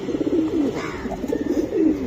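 A female Jabra Panki pigeon held in the hand gives a few soft, close throaty coos in a short rolling series.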